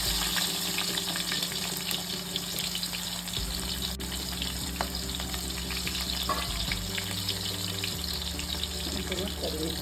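Onion and mustard seeds fry in hot oil in a pan while a fish curry is being prepared, a steady close sizzle and crackle with faint background hum throughout.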